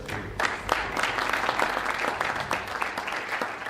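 Applause from a conference audience closing an afternoon session, a dense and lively patter of many clapping hands sustained at a steady level throughout.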